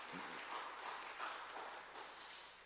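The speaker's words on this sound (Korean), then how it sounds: "박수 한번 해주시길 바랍니다" Congregation applause during a Korean church special dawn prayer service, a soft, steady wash of clapping heard from a distance at low volume.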